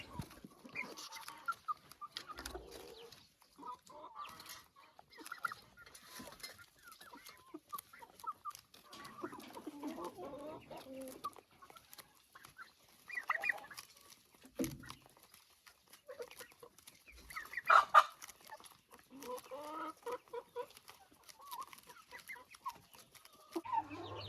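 Chickens and chicks clucking inside a henhouse while pecking at scraps of potato, a steady scatter of soft clucks and calls at close range with no talking.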